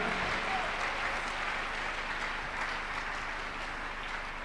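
A church congregation claps hands together during a Tuesday miracle service, a dense, steady wash of applause from many people, moderately loud and continuous throughout without a clear beat.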